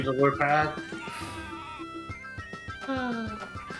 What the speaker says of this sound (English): Hedge Maze has managed to get one sheep to the end, I believe